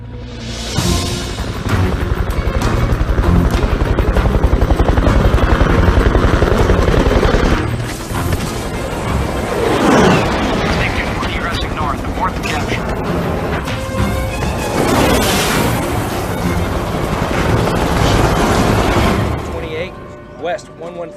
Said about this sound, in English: With enemy choppers moving in to pick up the downed pilot